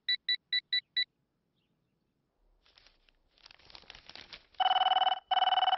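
A telephone rings in a Telugu comedy film scene. Five quick electronic beeps come first, then a pause and some faint rustling. A loud, steady, trilling ring follows, broken by one brief gap.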